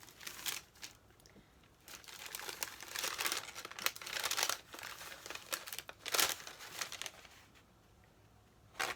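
Close, quiet crinkling and rustling in short bursts, with a quick ripping sound partway through as a tiny piece of tape is pulled and torn.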